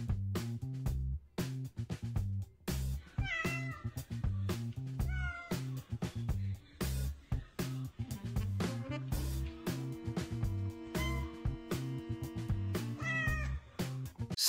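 A cat meows repeatedly in short, wavering calls, some drawn out, over a rhythmic background of music-like thumps.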